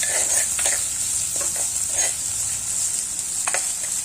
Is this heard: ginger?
yes